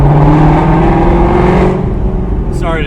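A 2020 C8 Corvette engine holds a low, steady rev with a strong rumbling tone, then eases off toward the end as a brief voice cuts in.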